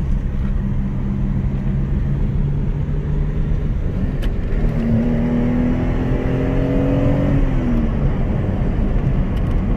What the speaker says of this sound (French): On va essayer de cet endroit pour accélérer un peu, pour découvrir les gaz.